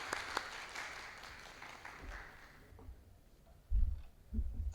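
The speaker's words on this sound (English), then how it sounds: "Give a big clap for the sir." Audience applause greets a doctor invited to present at a medical conference workshop, a faint, steady patter fading over a few seconds before some low thumps near the microphone.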